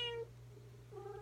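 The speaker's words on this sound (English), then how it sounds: "Sorry, guys, that was my cat." A 22-year-old cat meows twice, a drawn-out cry near the start and a second shorter one after a pause, faint and close against a steady low hum with no talking.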